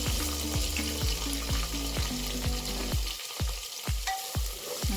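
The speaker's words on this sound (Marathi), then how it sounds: "छान असं व्यवस्थित परतून घ्यायचा आपल्याला हा. आणि हा कांदा व्यवस्थित त्याला शिजवून घ्यायचा" Thinly sliced onions frying in biryani masala, a loud, dense sizzle with a steady rhythm of stirring strokes scraping the pan, heard up close with no voices.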